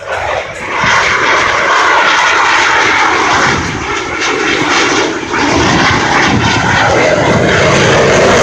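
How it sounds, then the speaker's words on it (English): An F/A-18 Super Hornet jet at the Thunder Over Michigan 2016 air show pulls a dirty roll at maximum power, a loud, sustained roar that swells and rumbles throughout. "he will select maximum power and execute a dirty roll, demonstrating superior power and maneuverability of the Rhino"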